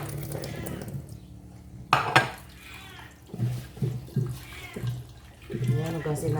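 Fish being washed in rice water in a pot for paksiw, sloshing water and light splashes in uneven bursts, with a person talking throughout.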